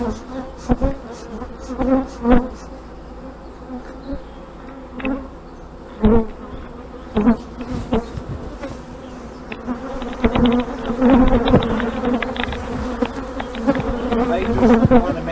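Honey bees buzz steadily around an open hive during a spring hive inspection, a dense close drone broken by scattered louder passes and clicks, with no talking.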